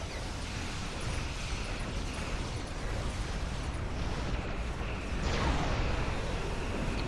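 A space battle in Star Trek Online roars with a long, loud explosive rumble and heavy mechanical noise, swelling near the end.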